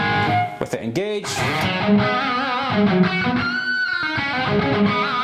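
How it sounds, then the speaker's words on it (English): An overdriven electric guitar riff, the signal pushed through a Tube Screamer pedal into the front end of an amp, plays loud and continuous with busy picked notes and a sustained bend, with no talk over it. "This is how I would set up a tube screamer going into the front end of an amp,"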